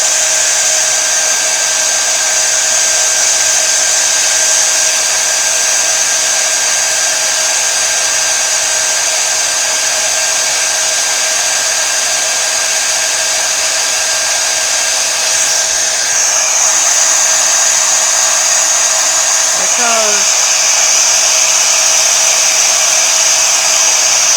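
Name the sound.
heat gun running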